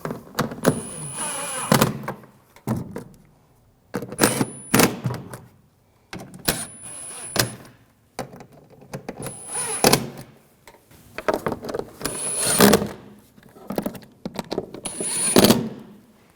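Bolts being tightened down on the 3.0L inline-six engine of a 2007-2013 BMW 328i during knock sensor replacement: about five close, separate bursts of mechanical ratcheting and driving, spaced a few seconds apart, with quiet gaps between.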